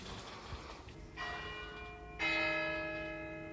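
Church bells ring to mark the end of the working day, with two bright struck tones that sustain and decay, moderately distant in a quiet outdoor setting.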